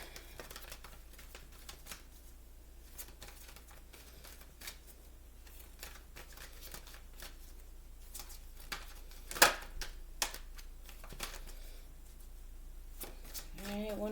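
Oracle cards being shuffled by hand in a rapid, continuous riffling patter with brief sharper snaps, close and fairly quiet.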